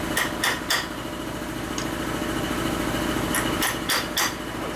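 Sharp metallic hammer strikes on Harley shovelhead motor parts during a stroker engine rebuild, a quick cluster of blows early on and another burst near the end, over a steady mechanical hum.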